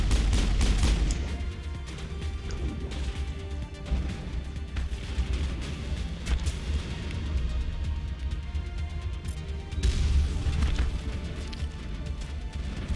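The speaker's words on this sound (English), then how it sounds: "That's a sniper screwing me up." Gunfire during a Mass Effect firefight: dense, continuous bursts of shots and crashing impacts over a low rumble, loud and steady, with heavier blasts near the start and again toward the end.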